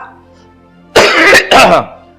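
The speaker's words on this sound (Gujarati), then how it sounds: "ખાંસી બહુ આવે છે" Two harsh, close coughs in quick succession from a person in a home setting, loud and isolated after a quiet start.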